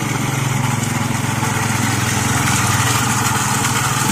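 A small borewell water pump motor runs steadily and loudly with a constant low hum and fine rapid pulsing, close by and alone, at a simple house.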